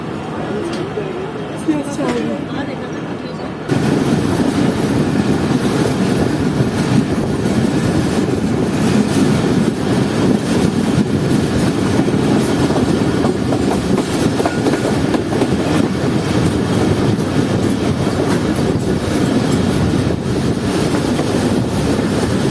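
Fareed Express passenger train running on the tracks between Pakistani stations, a steady loud rumble with rhythmic rattling of the carriages throughout, quieter at first and then abruptly louder as if a door or window opens.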